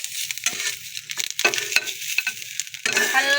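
Onions are sautéed in a pan for a quick tawa pizza, a close crackling sizzle broken by stirring scrapes and spatula knocks, with no voices.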